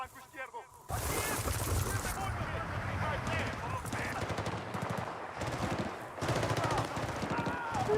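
Dense automatic gunfire in Battlefield 6 multiplayer: rapid bursts and overlapping shots start abruptly and stay loud and close, with shouting voices mixed in.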